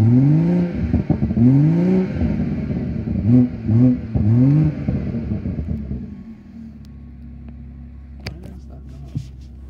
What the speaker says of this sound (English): The M Performance exhaust.